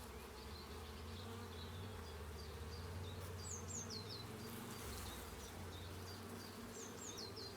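Honey bees hum in a dense, steady drone around opened hive frames during a spring inspection, with a low continuous buzz and occasional higher whines of individual bees passing close.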